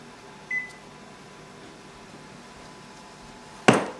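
An oven control panel gives two short electronic beeps while temperature and timer are set in a kitchen, the first faint and the second louder near the end, with quiet hum between.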